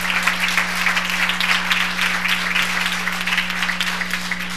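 Strong, sustained applause from an audience at a forum on attention deficit hyperactivity disorder, even and continuous over a steady low electrical hum.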